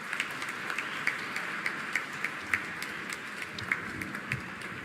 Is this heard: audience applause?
yes